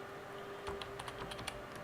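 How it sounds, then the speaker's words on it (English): Keystrokes on a computer keyboard while entering details into a towing and breakdown software form, a quick irregular run of light clicks at close range, with no voices. "So you would type in"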